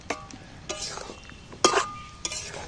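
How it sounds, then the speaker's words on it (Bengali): Fried potatoes are turned in a pan with a jackfruit curry, a spoon scraping and clinking against the metal in a few sharp strokes amid a low sizzle. "আলুগুলো আমি এর সাথে আরেকবার নেড়ে চেড়ে নিচ্ছি, ভাজা আলুগুলো"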